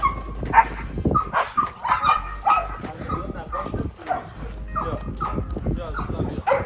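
A pit bull, a guard and police dog breed, barks and yips repeatedly, with some whimpers, close by while people talk over it throughout.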